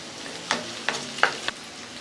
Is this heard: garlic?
yes